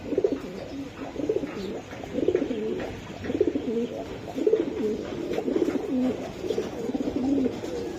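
Racing homing pigeons cooing steadily at close range, with soft repeated throaty coos overlapping throughout over a low background murmur.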